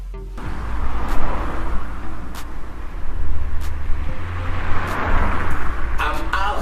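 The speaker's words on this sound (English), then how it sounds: "I'm out here on the streets in this traffic" Street traffic rumbles steadily with low engine drone and the hiss of passing cars, rising and falling, with a person talking over it.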